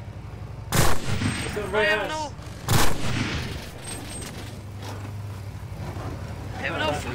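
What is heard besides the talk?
gunfire from the video game Cuisine Royale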